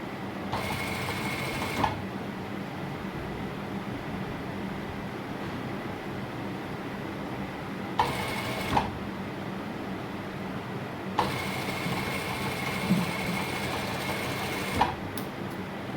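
Sewing machine stitching a shirt cuff runs in bursts, each a fast, even mechanical rattle that starts and stops sharply, with quiet pauses between runs and no voices.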